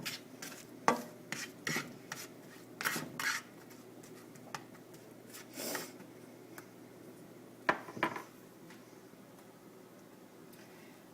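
Onions sauteing in melted butter in a pan, stirred with a utensil that makes irregular scraping and rasping strokes, with short bursts spread across the stretch and no talking.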